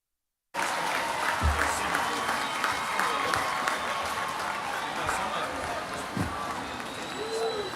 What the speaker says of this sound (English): Let's give another round of applause for our graduates.